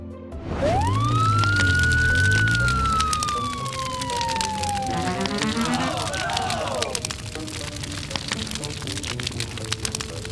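A toy police car siren wails with a rising and falling tone, loud and close, over a crackling background.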